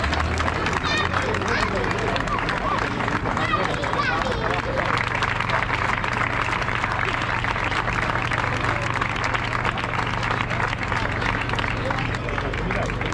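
Sustained crowd applause honoring the top three finishers of a hill climb race, dense continuous clapping at steady loudness with crowd chatter mixed throughout, filling the whole stretch.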